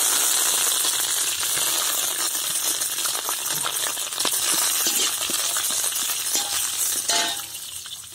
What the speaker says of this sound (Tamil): கடுகு எல்லாம் பொரிஞ்சிருச்சு. இப்ப வந்து கருவேப்பிலை போட்டு